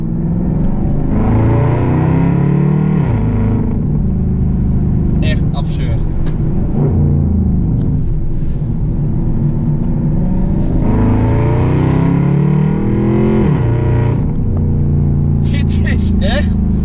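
A Maserati GranCabrio engine revs repeatedly while driving, rising and falling in loud, throaty sweeps over a steady road rumble, with two clear acceleration pulls.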